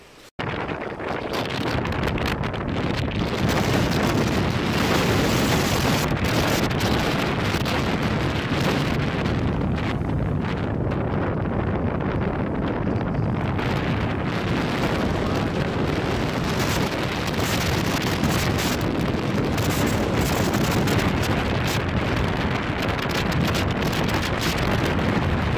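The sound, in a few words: strong wind on the beach, wind noise on microphone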